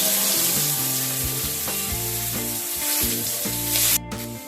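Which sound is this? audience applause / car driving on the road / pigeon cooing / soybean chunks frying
soybean chunks frying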